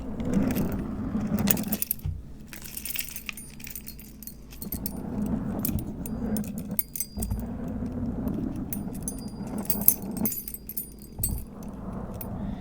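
A bunch of keys drags and scrapes across a surface, jangling and tinkling in repeated sweeps, fairly close and with no talking.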